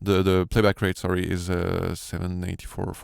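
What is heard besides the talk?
No everyday noise stands out behind the speech.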